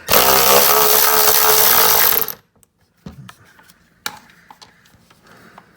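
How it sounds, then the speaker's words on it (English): A power wrench loosening the fog light mounting bolts on a 2017 Corolla iM roars loud and close for about two seconds, then stops abruptly, followed by scattered clicks and light handling noises. "I'm going to go ahead and undo those with my trusty wrench here"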